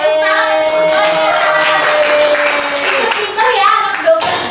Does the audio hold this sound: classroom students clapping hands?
yes